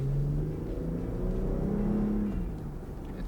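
A V6 Jeep with a modified loud exhaust revs in sport mode, its engine note climbing and winding out through a gear as a steady, moderately loud growl with a rising pitch.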